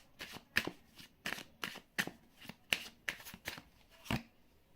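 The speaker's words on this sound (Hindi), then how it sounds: "एक कार्ड और निकालते हैं।" Tarot cards are shuffled by hand in quiet, close bursts, about a dozen crisp riffling flutters in an uneven rhythm, with no talk over them.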